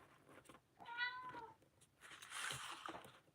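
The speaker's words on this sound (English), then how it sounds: "the cat is back." A cat meows in a clear, rising call near the mic, with a second softer vocal sound following, all against a quiet indoor room during a paper-crafting session.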